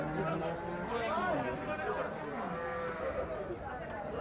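A two-toothed Friesian cow, pregnant with her first calf, lows at a busy Pabna cattle market, the drawn-out moo rising and falling beneath nearby crowd chatter and voices.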